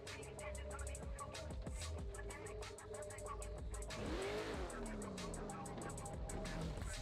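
BMW drift cars, including a BMW wagon and a BMW E92, drifting in a virtual drift championship racing game. Engines rev and whine steadily while tires squeal through slides, with a commentator talking over it throughout.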